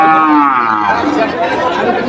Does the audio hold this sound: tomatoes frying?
no